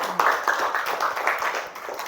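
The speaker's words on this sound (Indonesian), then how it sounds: "Tepuk tangan." Children clap their hands together in a classroom, a brisk run of close, fairly loud claps with a few scattered beats, no talking over it.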